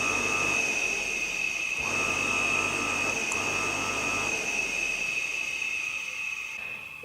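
Clothes dryer motor running under reed-switch control, a steady electric hum and whine with tonal bands that dip and resume a few times, close and continuous.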